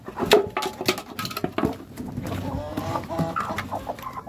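Chickens pecking at scattered greens on the ground, a busy pattering of quick taps mixed with soft clucks and rustling, close by and fairly quiet, with no talk.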